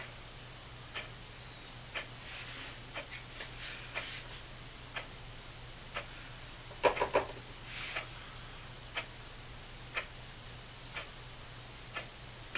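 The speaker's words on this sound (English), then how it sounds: "Can you hear my clock ticking?" A clock in a quiet room ticks steadily about once per second, faint but distinct against a low steady hum, with a brief cluster of small clicks partway through.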